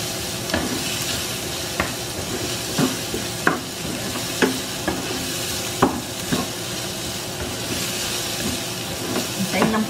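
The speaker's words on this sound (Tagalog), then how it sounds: "Antayin lang po natin maluto si sibuyas." Chopped onions sautéing in a pan for Filipino beef mechado, a steady close sizzle and hiss broken by repeated scraping clicks of a spoon stirring against the pan.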